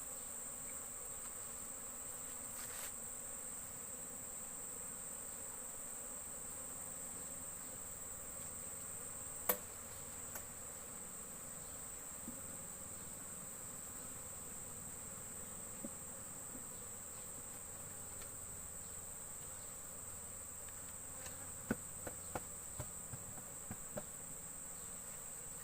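Honey bees around an opened hive during honey harvest, a steady high-pitched buzzing hum throughout, with scattered faint knocks and taps of the work near the end.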